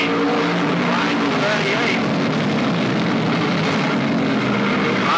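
Semi late model stock cars roar around Bedford Speedway in a 1989 race, a dense, continuous wash of engine noise from the field, with a race announcer talking over it.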